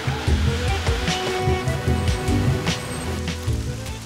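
Rain falls in a steady, dense wash over surfaces, loud and continuous, with low rumbling underneath and no clear voices.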